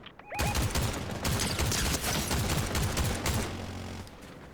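Dense bursts of rapid gunfire from several weapons crackle and rattle almost continuously during a Fortnite match, loud and close, with no speech.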